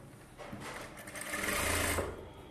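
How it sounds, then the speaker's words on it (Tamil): A sewing machine runs steadily, stitching the seam of a bridal Aari blouse in a tailoring workshop, a continuous mechanical whir at moderate, close volume that swells slightly midway, with no speech over it. "அப்படியே உள்பக்க திருப்பியே நம்ம தையல் போட்டுக்கலாம்."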